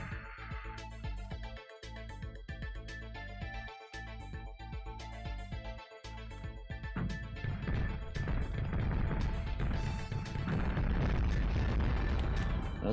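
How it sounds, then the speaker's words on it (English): Loud, distorted explosion sound effects from the Sega Saturn game Clockwork Knight burst repeatedly over busy game music, growing denser and harsher toward the end. "Those explosions."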